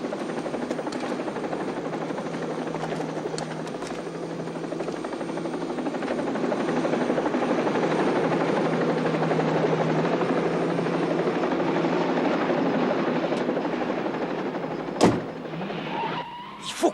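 A helicopter's steady rotor thrum fills the scene in a 1984 TV action series, loud and continuous for most of the span, ending with a couple of sharp bangs near the close.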